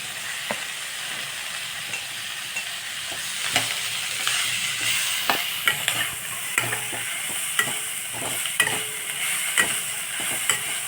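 Corn and capsicum frying in a pan for a lunch box recipe, a steady sizzle broken by repeated sharp scrapes and taps of a spatula every second or so, close and with no talk.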